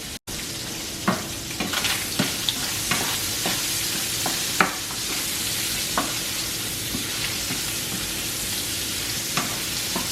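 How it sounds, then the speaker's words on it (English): Sausages brown in a frying pan with a continuous, close sizzle. Frequent clicks and taps of stirring and turning come through over the hiss. Nobody speaks. "I just like to get a really good brown on the sausages before I add them to the rice"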